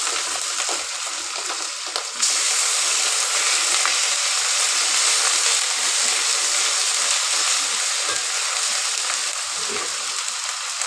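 Onions, bay leaf and garlic paste fry in oil in a pan, a steady broad sizzle that grows louder after a couple of seconds and holds evenly throughout, with no talking.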